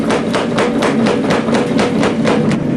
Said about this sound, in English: I'll use a power hammer made back in the late 20s.